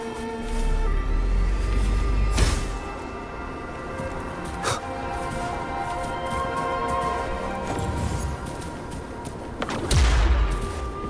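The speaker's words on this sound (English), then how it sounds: "Perhaps we can create an opening in this disk with an explosion." Explosion from the video game Huanglong blasting an opening in a disk with tacitite fulminate, with broadband booming bursts near 2.5 and 10 seconds over a steady musical game backdrop.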